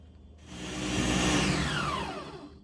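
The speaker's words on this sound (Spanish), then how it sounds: "Y ahora sí, vamos a licuar." Blender whirring a soursop ice cream mixture, a loud continuous motor roar that rises and then holds steady, close up with no talking.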